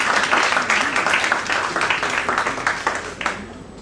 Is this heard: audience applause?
yes